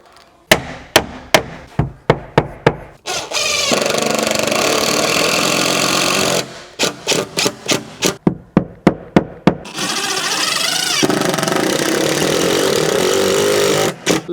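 A power drill drives self-tapping screws into a side panel in a Land Rover Defender 110 camper build, with bursts of steady motor whine alternating with sharp, rapid clicking impacts.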